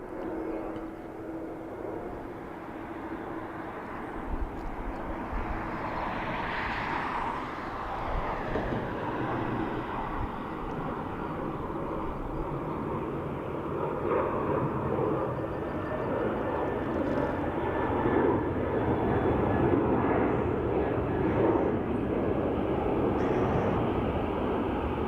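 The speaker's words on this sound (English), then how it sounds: "ATR 72-600 in from Manchester in the UK" An ATR 72-600 turboprop airliner arriving at Dublin Airport from Manchester, a steady broad propeller and engine roar that holds loud and fairly near throughout, swelling slightly toward the end with no talk over it.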